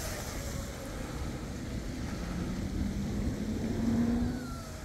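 A 21-inch RC twin-hull catamaran boat with Rocket brushless motors and 90A Flycolor controllers runs on a park pond on a windy day, its thin motor whine rising toward the end over steady wind rumble and water noise.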